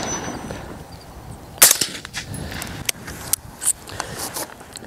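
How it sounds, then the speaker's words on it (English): A rifle fires several sharp, spaced shots outdoors, alternating unsuppressed and fitted with a Gemtech G5-T suppressor, some cracks louder and some muted. "I mean, this sounds like a 22 going off."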